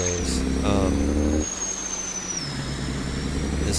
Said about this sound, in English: I think the truck's a little too loud while I'm talking